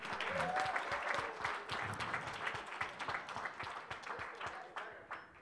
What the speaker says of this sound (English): Big round of applause for all the fighters tonight.